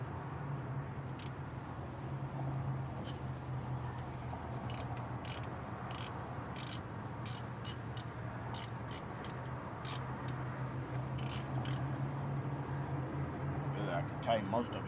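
A regular 9/16 wrench ratchets in quick bursts of sharp clicks while tightening a part on a T680 truck, the clicking close and irregular over a low steady hum.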